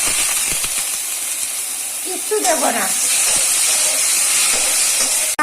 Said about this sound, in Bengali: এবার মুগ ডালটা আমি ভেজে নেব